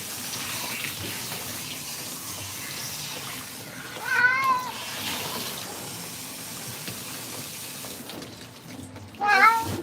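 Running water rinsing a cat during a lion-cut grooming session, a steady close stream with the cat meowing plaintively twice over it.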